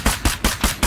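Rapid gunfire in the zombie video game State of Decay 2, five evenly spaced heavy shots in under a second, loud and close.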